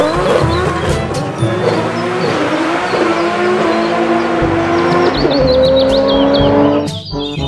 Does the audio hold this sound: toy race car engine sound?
yes